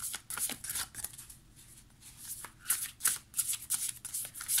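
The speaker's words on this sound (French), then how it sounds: "je vais tirer une deuxième carte" Tarot cards being shuffled and drawn by hand, a crisp riffling and flicking of card stock in short bursts at close range, with no talk over it.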